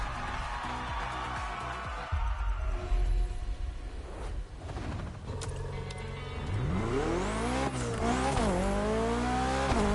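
BMW CSL racing in the video game Motorfest, with engine roar, sweeping revs rising and falling through gear changes, and screeching tire squeal and skids, loud and continuous.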